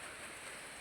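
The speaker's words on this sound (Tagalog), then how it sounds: "Kusog-kusog pag-ulan, mong gabi." Heavy rain pours down at night over an overnight copra-cooking camp, a dense, steady hiss of drops with no break and no voices.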